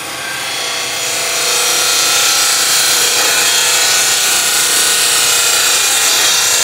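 A wood lathe spins as a bowl gouge cuts away waste wood on a turning for a fruit and jam chuck, giving a loud, continuous rasping scrape close by with no talking.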